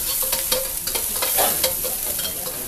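Scallion whites browning in a hot pan during home stir-frying, a steady oily sizzle with intermittent scraping stirs, close and fairly loud, with no talking.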